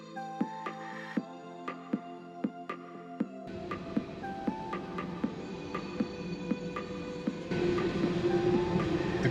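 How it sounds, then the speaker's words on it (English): A long coal train rolls through Bellingham, Washington, with a steady rumble, rhythmic wheel clicks and tonal rail squeal that grow louder and denser partway through, moderately close and with no talking. "The coal train runs right through Bellingham as well"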